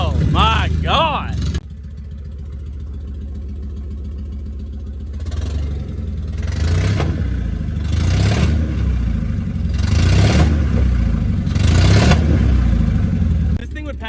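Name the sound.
1984 Mercedes wagon engine running after 10 years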